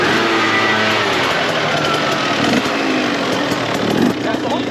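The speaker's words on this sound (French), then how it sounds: "On ramène le dragster." A dragster engine runs loud and gritty close by at Castelnau-de-Lévis, a continuous rough rumble with shifting pitch as it revs, with voices mixed in underneath.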